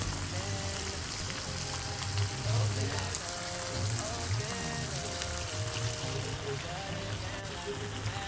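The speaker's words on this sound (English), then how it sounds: "The sound of the meat being boiled and being seared in the pan just super satisfying and just super relaxing to me" Pork ribs sear in a pan for Vietnamese sweet and sour ribs, giving a steady, close sizzle and crackle like rain on a surface, while a voice talks over it.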